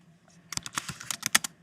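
Quick bursts of typing on a computer keyboard, a dozen or so crisp clicks in an uneven rhythm, close and fairly quiet with no talking.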